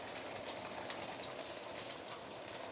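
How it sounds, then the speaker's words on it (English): Fish deep frying over medium-high heat in a stainless steel wok: a steady, dense sizzle and bubbling hiss of hot oil, continuous and fairly quiet, with no talking. "And you continue to use medium-high heat to deep fry the fish"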